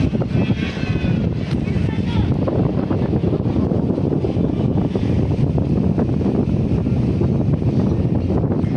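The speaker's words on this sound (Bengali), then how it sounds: "প্রশান্তির বাতাস এখানে।" Strong seaside wind on the Marine Drive buffets the microphone in a loud, steady, low rumble with gusty roar throughout.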